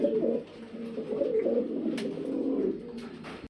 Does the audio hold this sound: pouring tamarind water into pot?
no